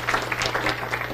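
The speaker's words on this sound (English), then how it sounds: "let's go ahead and clap for them" An audience at a scholarship honor reception claps for the recipients, a brief burst of many hands patting in a quick uneven rhythm, moderately loud and close, without speech.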